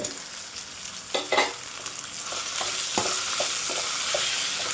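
Karapendalam root pieces going into a pan of frying tomato, with a loud stir and scrape around one second, then steady sizzling and repeated light stirring taps close by, no talking.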